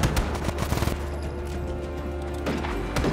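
Bursts of gunfire in Just Cause 3, a dense volley of shots and crashes at the start and again near the end, with a steady low rumble between them.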